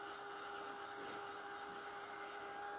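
A dryer blowing on wet acrylic paint in an art journal page gives a steady, even whir that runs unbroken throughout at a low, faint level.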